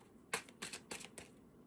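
A deck of cards shuffled during a love-themed tarot reading, heard as four quick riffling bursts in an even rhythm, close and fairly soft, with no talking.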